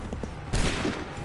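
A rifle volley fires on command in the game Hunt for Freedom, one sudden dense crack of many shots together that booms over a noisy battlefield background, short and loud.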